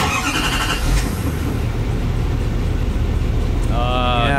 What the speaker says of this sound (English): Duramax. It's a Duramax.